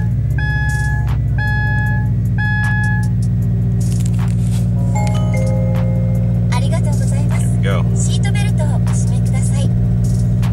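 A car engine idles steadily and loud throughout, with a run of electronic beeps near the start and scattered clicks and rattles over the running motor.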